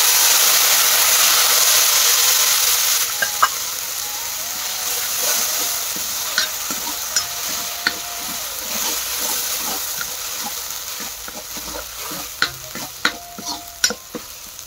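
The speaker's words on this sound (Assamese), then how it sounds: "এতিয়া আদা নহৰু, আদা পাতৰ যিটো পেষ্ট বনাই থৈছিলোঁ সেইটো দি দিছোঁ।" Ginger leaf paste goes into a hot pan for an Assamese fish curry, giving a loud hiss of sizzling that settles into softer frying while a utensil clinks and scrapes against the pan in irregular taps.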